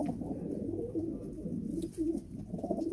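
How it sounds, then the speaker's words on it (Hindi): Fancy pigeons in a pigeon house coo continuously in soft, low throaty rolls, several birds overlapping at close range with no talk. "काफ़ी खूबसूरत पिजन हैं, बड़ा बेहतरीन सेटअप इन लोगों ने बनाया हुआ है। ये जी फैंसी पिजन है"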